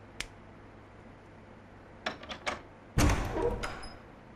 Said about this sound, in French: je retourne à la porte qui s'ouvre avec une vieille clé, celle-là. Oh, une double porte.